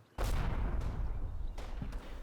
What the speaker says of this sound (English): they come under fire from previously hidden enemy units at the farm near the river